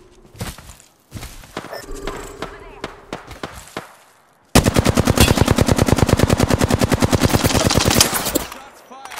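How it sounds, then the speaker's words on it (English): Rapid automatic gunfire in a video game, with scattered shots and impacts first, then a long dense burst of evenly spaced, loud, close rounds firing for several seconds. "Shots fired and they're hitting me."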